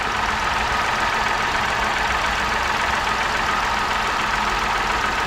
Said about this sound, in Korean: 일단 이 차는 3기통 엔진이죠.